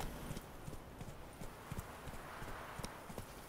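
Hooves of Roach, a horse galloping in The Witcher 3, drum in a quick, steady clip-clop rhythm, faint and continuous, with no talk.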